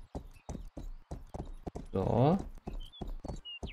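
Horse hooves clip-clop in the Rustler video game as a rider mounts up and sets off, short rhythmic hoof beats heard under continuous talking, with a brief louder burst near the middle.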